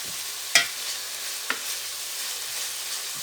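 Ginger garlic paste fries in a pan for a chole keema dish, giving a steady soft sizzle with a couple of brief clicks of stirring.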